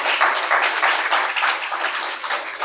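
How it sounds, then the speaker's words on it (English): An audience applauding at an art exhibition event, steady dense clapping throughout, fairly loud and without voices. "Please, round of applause for Kendra."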